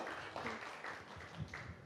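Audience applause at an Indonesian official event about prosecution performance, a steady broadband patter of many hands lasting throughout, moderately loud with faint voices underneath.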